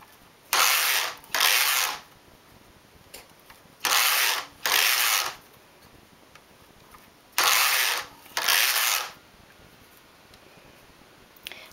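Needles on a knitting machine shift in and out of working position while a flower trim is knitted, three pairs of short, bright mechanical rattling slides spaced evenly apart, close and loud over a quiet room.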